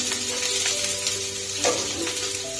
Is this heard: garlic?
yes